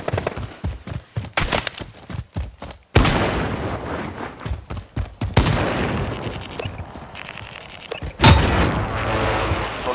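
Repeated gunfire bursts and booming shots aimed at the player during a Call of Duty Warzone firefight in Verdansk, loud and close, rattling in fast volleys before a heavy blast and sustained rumbling battle noise.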